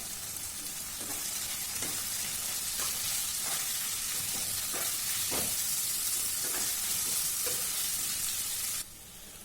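Chopped onions fry with red and green capsicum in a hot pan, a loud continuous sizzle broken by rhythmic stirring scrapes, dropping quieter just before the end.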